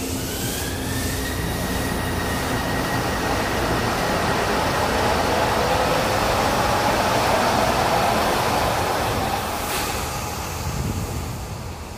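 A passenger train runs past nearby with a steady loud rumble of wheels on rails, a faint high whine running through it, and the roar easing slightly toward the end.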